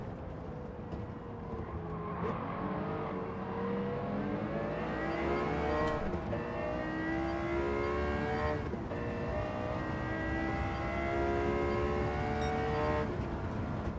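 A race car engine in Gran Turismo 7 revs steadily, its pitch climbing and dropping through gear changes, loud and continuous and close, with no talking over it.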